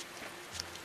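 Rain in Westgand in the video game Tales of Berseria, a brief soft wash of steady falling rain with a faint patter, no talking.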